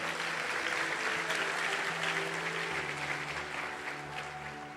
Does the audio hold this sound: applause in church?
yes